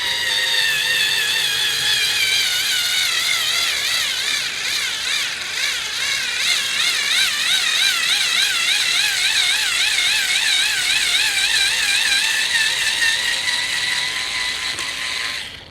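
A small toy motor strains through a plastic gear case while driving into a pre-drilled hole, giving a continuous, loud, whining ratchety buzz that wavers in pitch for about fifteen seconds without a pause.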